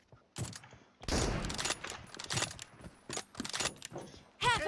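Weapon reloading in an online team shooter game: a run of sharp mechanical clicks and clacks packed among bursts of gunfire, ending in a bright metallic ring, all loud and close.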